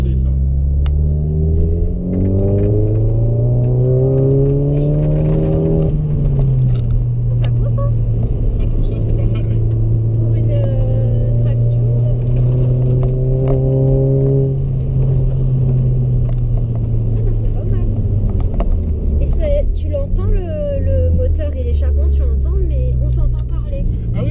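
Volkswagen Golf 7 GTI exhaust revving, a loud deep rumble that climbs and falls through several rises over about twenty seconds, close by, with people talking over it.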